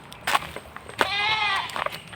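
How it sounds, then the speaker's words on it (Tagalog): Goats bleat on a small farm plot with sparse grass, several wavering calls standing out over background noise and scattered knocks, with one long, clear bleat in the middle. "May kambing po dyan oh."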